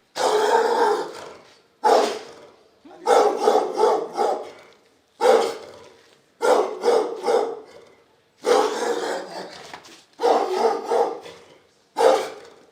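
Dogs guarding a walled residential compound in Kampala, Uganda, bark in loud, close bursts of several rapid barks, with brief silent gaps between each volley and some growling mixed in.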